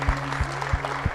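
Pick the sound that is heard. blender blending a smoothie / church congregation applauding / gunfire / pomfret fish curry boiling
church congregation applauding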